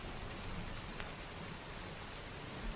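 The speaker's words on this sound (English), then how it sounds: "so my rain sound" Steady rain hisses evenly as a looping sound effect in an Unreal Engine 5 project, a dense wash of droplets with no pauses, fairly quiet throughout.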